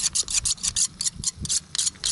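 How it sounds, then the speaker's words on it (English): Knife blade drawn across a sharpening stone to remove the wire edge, about ten quick rasping strokes in an even back-and-forth rhythm, close and clear. "Make sure I work on cutting the wire edge off that I put on there while I was sharpening."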